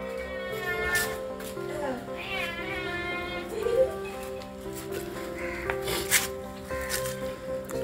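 A hungry cat meows repeatedly at close range while waiting for food scraps such as a chicken bone, its drawn-out cries rising and falling over background household noise and some talking.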